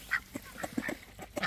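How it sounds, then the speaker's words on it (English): A Muscovy duck gives a quick series of short, soft quacks and nasal calls at close range, in uneven bursts. "That's a Muscovy duck."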